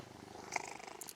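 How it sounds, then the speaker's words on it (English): A cat named Oliver purrs softly and steadily up close, a faint continuous rumble with a small bump partway through. "Oh, listen to that purr."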